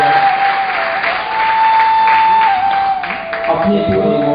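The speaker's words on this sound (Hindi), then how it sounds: "जोरदार तालियों से स्वागत किया जाए।" Loud applause fills a conference hall to welcome the mayor at a national conference on Shivambu, yoga and naturopathy, steady and dense throughout, with a sustained tonal hum running over it.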